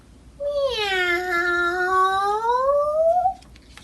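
A person's voice imitates a cat's meow, reading aloud from the children's book Bark, George: one long, drawn-out, wavering meow that rises and falls, loud and close, with no other talk around it.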